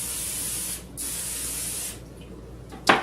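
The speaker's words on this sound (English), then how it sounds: "we're going to take our cooking spray and coat it" Cooking spray hisses from an aerosol can onto a small circular baking container in two steady bursts of about a second each, close to the mic, ending with a brief clatter.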